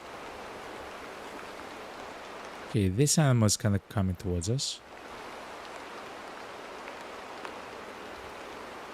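Steady rain falling in the hunting game Way of the Hunter 2, a constant soft wash of noise throughout, with a voice speaking briefly over it midway.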